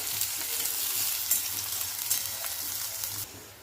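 Steady, close sizzling of chopped onion frying in a pan for pithla, with soft scraping as it is stirred, then the sizzle drops off near the end.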